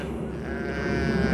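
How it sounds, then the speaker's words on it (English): A sheep bleats nearby in one long, wavering cry over a low outdoor rumble. "Shut up, sheep."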